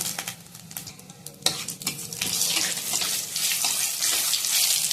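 Chili and bay leaf frying in hot oil in a heated kadai for a dal tempering, with scraping stirs at first, then a steady, close sizzle that swells and stays loud through the end.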